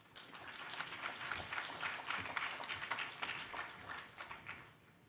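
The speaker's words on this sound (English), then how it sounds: "let's give a massive round of applause to Space Guardians" Audience applause at a hackathon closing ceremony in New York, steady broadband clapping from a sizable crowd lasting the full five seconds, heard at a moderate distance without talk over it.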